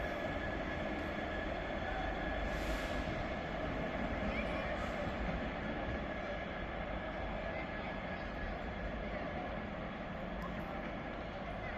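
Freight locomotive 66504 hauling a train from Carlisle Network Yard to Tyne Sorting Sidings rolls past at Carlisle, a steady, loud rumble of wheels and engine that holds evenly throughout.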